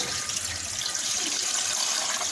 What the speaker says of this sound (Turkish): Evet şimdi görmüş olduğunuz gibi suyumuzu da üzerine ilave edeceğiz.